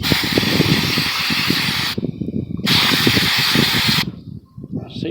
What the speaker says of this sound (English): a little brake clean cleaner, and spray this up.